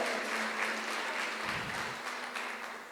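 Congregation applauding during a Friday evening church service, a steady dense wash of clapping over a faint sustained low hum, holding level for the whole stretch with no voices.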